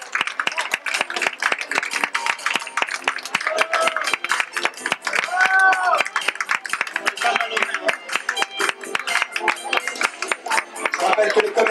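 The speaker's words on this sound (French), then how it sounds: "On peut les applaudir quand même, c'est 14 jeunes filles qui n'ont pas été sélectionnées." At a Miss Arc-en-Ciel beauty pageant in Alençon, the audience claps for the non-selected contestants with loud, busy, steady applause throughout, while a voice speaks briefly over the clapping.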